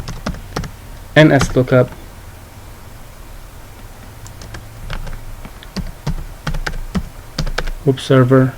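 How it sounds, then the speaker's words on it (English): Computer keyboard keys tapped in scattered short bursts while a command is typed into Windows PowerShell, close and moderately loud, with someone speaking briefly at the start and again near the end. "So now I'll type the command"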